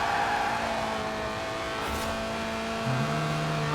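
A 1.8-litre, 190-horsepower car engine in Forza Horizon 4 revs toward 8,000 RPM with a thin, high, drill-like whine, holding steady before a brief shift in pitch near the end.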